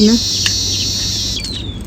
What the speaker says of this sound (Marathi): पक्ष्यांची चिव चिवाट तुम्हाला ऐकायला येत असेल ना